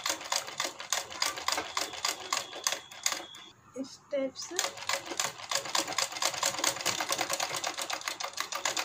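Sewing machine running a line of stitching around a heart-shaped blouse neck design, a fast, even chatter of stitches close by that breaks off briefly midway before resuming, with a short spoken phrase over it.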